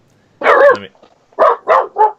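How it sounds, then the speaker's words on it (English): An excited dog barks four times up close and loudly, first with one longer bark and then three quick ones in a row, against a quiet background. "See? The dog is excited."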